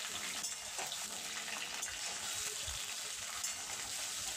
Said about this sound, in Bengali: ঝিঙে আলু কিছুক্ষণ নেড়ে নেব।